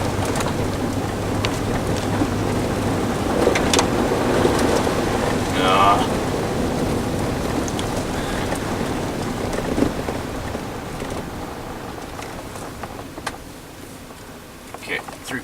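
Thunderstorm seen during a storm chase: steady rain noise runs throughout with low rumbling thunder, heard from inside a vehicle while people talk.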